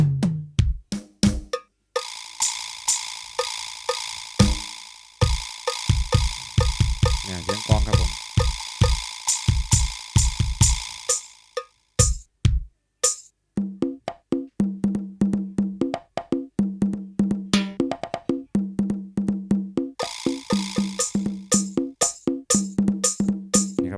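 Drum patterns from a Casio LK-90 budget keyboard play a dense run of rapid percussive hits, shifting through several kit sounds with steady rhythmic clicks and thumps, fairly loud and close, with no talking.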